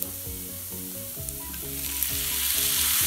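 Chopped tomatoes frying in masala for fish biryani give a steady, close sizzle that grows louder. Rhythmic background music plays throughout.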